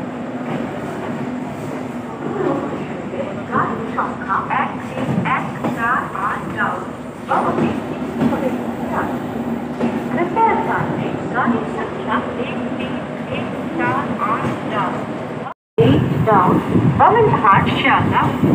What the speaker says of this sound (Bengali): 1:55 পদাতিক এক্সপ্রেস বোলপুর শান্তিনিকেতন থেকে ডিপার্ট করে